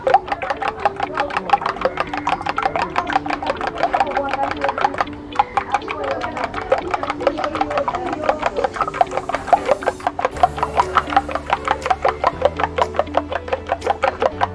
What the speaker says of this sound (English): I'm going to beat my eggs and whisk them properly